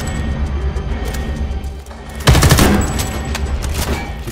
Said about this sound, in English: Where are all these guys that are shooting at me right now?